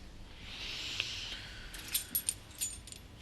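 A set of barn keys jangles lightly near an indoor speaker, with a few sharp metallic clinks toward the end after a soft shuffling start.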